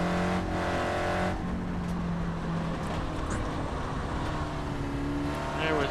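Mazda Miata engine in a VR racing game, a loud, sustained drone with a shifting pitch as the car drives on a dirt stage, steady throughout with no talking.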